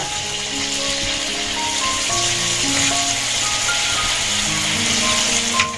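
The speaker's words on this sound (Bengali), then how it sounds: "তেলটা গরম হয়ে গেছে, কপিগুলো দিয়ে দেব।" Cauliflower pieces crackle and sizzle steadily in hot oil, a dense, even hiss with small pops that continues without pause from start to finish.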